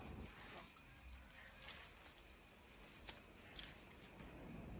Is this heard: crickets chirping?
yes